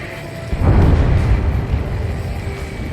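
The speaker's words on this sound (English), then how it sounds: "A huge explosion just went off underwater." A huge underwater explosion in the combat flight game Ace Combat 7 sets off a deep, loud rumbling boom about half a second in, then a sustained low roar that slowly fades without dying out.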